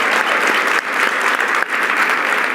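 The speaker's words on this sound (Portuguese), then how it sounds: "Uma salva de palmas" A loud, dense round of applause from a talk-event audience, sustained throughout with two brief dips in intensity.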